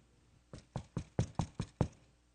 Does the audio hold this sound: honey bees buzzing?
no